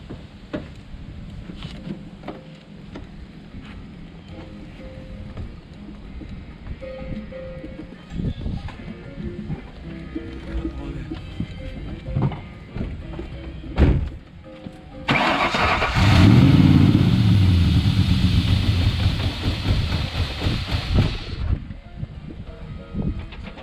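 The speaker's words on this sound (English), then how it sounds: "I'm about to crank the car." Car engine cranked and fired after an intake manifold install, with a burst of loud engine noise lasting several seconds late on, following quieter clatter and background noise.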